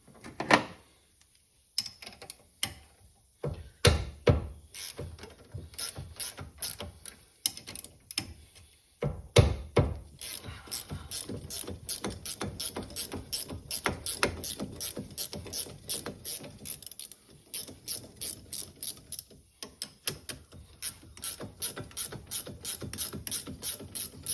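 A ratchet wrench removes the two 15mm caliper mounting bracket bolts on a 2024 CFMOTO ZFORCE 950, with bursts of close, rapid clicking, short pauses and a few metallic knocks.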